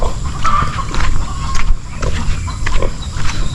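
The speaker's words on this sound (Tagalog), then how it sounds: "O dito may mga baboy din." Pigs on a rural farm under coconut trees grunt and snort in low rough bursts, close and loud, with steady outdoor ambience behind them.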